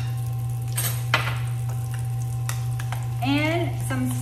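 Portobello mushrooms sizzle steadily in a skillet that was just used for sauteed onions, with a constant frying hiss throughout and a couple of sharp utensil clinks and scrapes against the pan.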